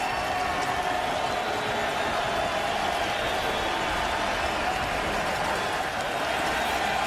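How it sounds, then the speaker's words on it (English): A stadium crowd at a CFL game roars and applauds Johnny Manziel's debut as the Ticats' new quarterback, a dense, continuous wash of cheering and clapping with no single voice standing out. "Hear that nice welcoming round of applause for the Ticats' new quarterback"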